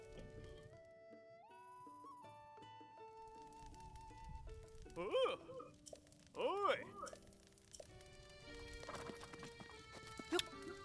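Horse hooves clip-clop in the video game Breath of the Wild, a few louder bursts of steps amid game music, while a voice talks over much of it.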